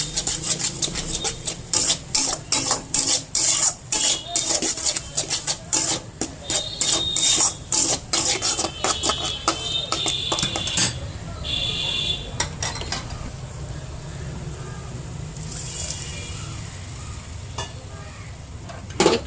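Fish curry ingredients with potato and cauliflower stirred in a pan, with loud, rapid rhythmic scraping of a spatula against metal over frying, then a quieter sizzle as the stirring slows; no talking.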